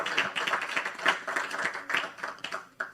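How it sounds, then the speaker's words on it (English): A conference audience applauds the regional leadership team, dense continuous clapping from many hands filling the room at a steady, fairly loud level with no talk over it. "Can we give a round of applause to our regional leadership team?"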